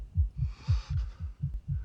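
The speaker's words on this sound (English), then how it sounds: "Why's your heart beating so fast?" A rapid heartbeat sound effect in a vampire TV drama: deep, muffled thumps in a fast, even rhythm, about seven beats in under two seconds, loud and close with a faint hiss behind.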